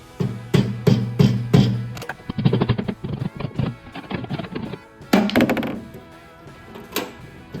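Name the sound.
hammering a flathead screwdriver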